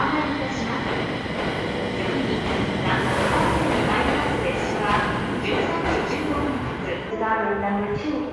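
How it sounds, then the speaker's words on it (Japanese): A local train bound for Hirosaki rumbles steadily into platform 2 of a Japanese station in winter, a continuous broad roar with faint rhythmic clatter, while a Japanese platform announcement plays over it. "2番線に普通列車弘前行きが参ります。"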